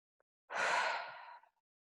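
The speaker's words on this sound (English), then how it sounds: "So, a couple more nice breaths." A single slow, deep breath during a guided breathing exercise, a soft airy inhale-exhale lasting about a second, close and alone in otherwise quiet surroundings.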